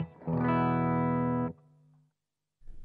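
An electric guitar played through a Marshall Haze 15 amp on its clean channel rings out as a single sustained chord that decays, followed by a short pause and the start of another strum.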